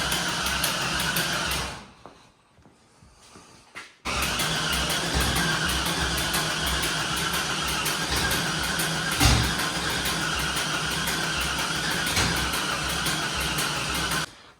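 An LS-swapped Nissan D21 Hardbody engine runs rough with an uneven, loping idle and a dense mechanical clatter. It cuts out briefly near the start, then restarts and runs steadily, loud and close.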